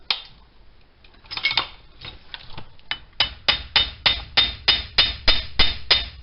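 A hammer seats a front axle u-joint on a Dodge Ram 1500 4x4, first a few scattered metallic taps, then a steady series of about ten evenly spaced sharp strikes close by.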